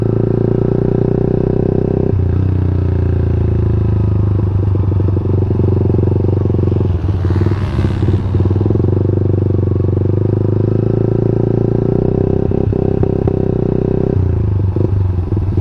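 Motorcycle engine tuned with an MXKing ECU on Pertamax Turbo fuel, held at steady high revs during a launch control test; a loud, sustained drone with brief clattering, running continuously near the listener.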